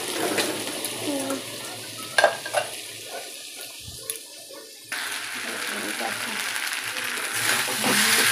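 Chowmein with vegetables being stir-fried in a pan, with sizzling, stirring and clatter of utensils, a couple of sharp knocks mid-way, and talk over the frying.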